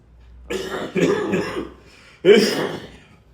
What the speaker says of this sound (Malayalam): ചുമയുണ്ട്.